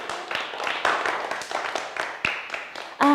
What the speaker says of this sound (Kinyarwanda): Mumuhe amashyi menshi cyane.